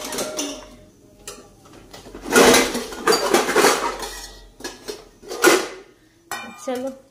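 A plate and cutlery handled in a home kitchen: clattering clinks and scrapes come in irregular bursts, some loud and close, with short quieter gaps between.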